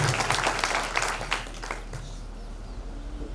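Audience applause for a theatre troupe after a play, dense clapping for about two seconds that fades quickly into a quiet hall.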